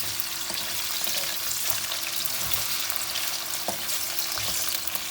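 Three medium potatoes frying in a pan with eggplant and sardines, a steady close sizzle and crackle of hot oil with faint stirring, no voices.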